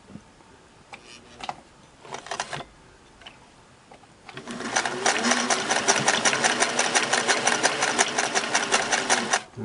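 A Singer 401A sewing machine runs a two-needle, four-thread test seam, starting with a few light clicks and handwheel sounds, then a loud, steady, rapid rhythmic stitching close by for several seconds.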